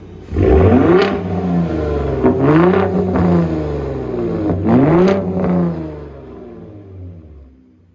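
A 2021 third-generation Ford Raptor engine revs hard in Baja mode, several loud surging blips rising and falling with a deep exhaust growl, close and alone.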